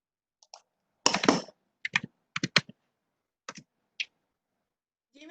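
Keystrokes on a computer keyboard during an online statistics and informatics class, heard as several sparse bursts of clicks and short quick runs separated by silent gaps, close to the microphone and with no talking over them.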